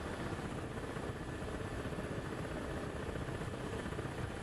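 Helicopters in a flight simulator game drone with a steady, dense rotor and engine roar that stays loud and unbroken throughout, with no voices.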